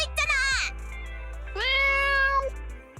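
Two clear cat meows from the video game Zenless Zone Zero, bright and drawn out, with a short pause between them over a steady low hum.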